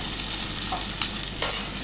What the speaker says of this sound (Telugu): సాల్ట్ వేసుకుంటే నెక్స్ట్ అది బాగా ఫ్రై అవుతుంది ఆనియన్స్ అన్నీ.